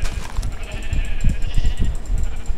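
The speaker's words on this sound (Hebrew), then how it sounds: "צריך להמשיך להרוג כבשים" Sheep bleat in Minecraft, a few short blocky calls repeating over steady game background noise, with no one speaking.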